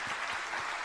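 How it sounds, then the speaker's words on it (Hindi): Brief burst of dense clapping from a gathered audience at a Jain religious discourse session, steady and even throughout the short moment. "एक बार जोरदार इनके सम्मान में ताली"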